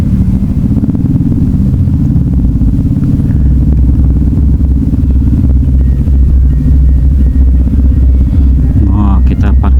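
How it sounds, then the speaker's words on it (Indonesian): Harley-Davidson motorcycle engine at a Banten Auto Culture car show, a loud, steady low rumble throughout that sounds close, with chatter mixed in. "Oh, ada Harley cuy itu."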